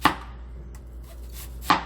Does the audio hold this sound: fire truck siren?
no